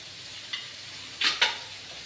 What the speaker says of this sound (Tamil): கடுகு உளுந்து தாளிச்சிட்டு